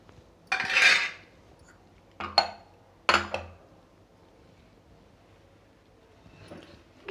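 A spoon stirs basmati rice in boiling milk for phirni in a pot, producing a few separate bursts of scraping and metallic clinks with quiet pauses between them.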